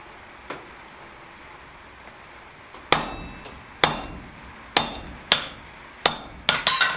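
Hammer blows on hot steel spread a fishtail on an anvil, a light tap then several loud, ringing strikes spaced about a second apart, quickening at the end, close and without talk.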